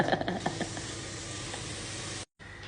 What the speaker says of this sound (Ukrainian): Так, тут у нас кипить вода.